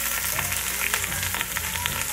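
Strips of rinsed napa cabbage hit a hot pan, and a continuous hiss of sizzling oil runs close and even throughout.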